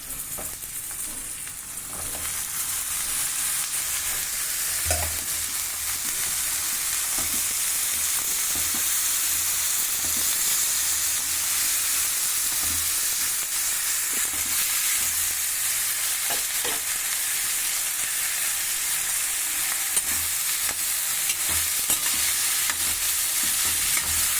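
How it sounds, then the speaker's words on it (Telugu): Cauliflower florets, first blanched in hot water, fry in hot oil with a steady, continuous sizzle that stays loud and even throughout, with occasional stirring clinks in the pan. "వేడి నీళ్ళలో తీసిన గోబిని ఇగో నూనెలు వేస్తాను"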